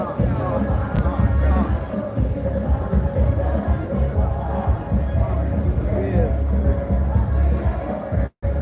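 Crowd hubbub fills a political party meeting in Jamaica, a loud, dense babble of many voices with close speech over it and a brief dropout near the end.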